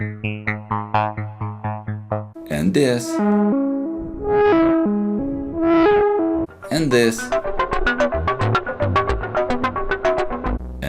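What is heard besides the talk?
synthesizer paraphonic patch sounds, single voice with two oscillators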